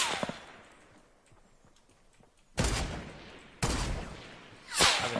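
Sharp, booming sniper rifle shots in the Fortnite video game, three distinct reports spaced about a second apart, each with a decaying tail, preceded by softer scattered in-game sounds.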